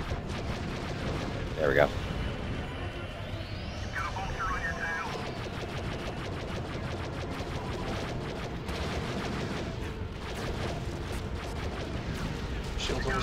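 Automated gun turrets fire in a Star Wars Battlefront shooter battle, with dense, continuous blasts and booms rumbling under game noise while players talk over it.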